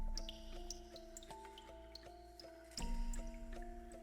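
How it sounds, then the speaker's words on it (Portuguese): Water drops fall one by one into a flooded underground room, each drip echoing, with a steady low hum beneath the irregular plinks. "O som de gotas ecoava."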